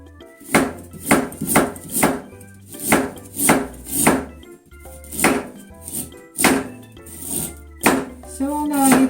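Fresh ginger is chopped with a knife on a cutting board while making crunchy cucumber and ginger pickles: about a dozen crisp, rhythmic chops land close by at an even pace.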